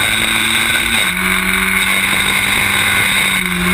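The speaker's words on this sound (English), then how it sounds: "And now Sims puts it up on the inside through Augies" Historic Formula Ford race cars racing at Snetterton in 2014, a loud continuous engine drone with a pitch shift partway through as cars pass close.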